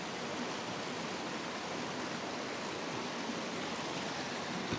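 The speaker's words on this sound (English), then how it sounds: "I'm in the river now. So look at this river. Now from here you can see the waterfall." A river and waterfall at Ruskebe Waterfalls near Londiani, Kericho County, Kenya, make a steady broadband rush of flowing water, close and even throughout with no voices over it.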